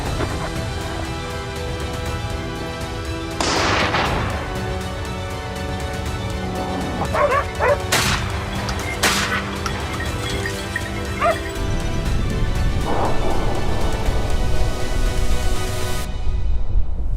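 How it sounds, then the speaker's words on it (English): Hunting dogs on a wild boar hunt bark, yip and whimper in the woods, scattered calls at moderate distance over steady outdoor noise. "the dogs picked up the scent of more activity nearby, their growls echoing through the woods like war drums"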